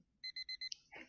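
An alarm clock in the horror video game Dungeon Nightmares II beeps four times in a quick, even rhythm, followed by a brief higher tone and a soft thud.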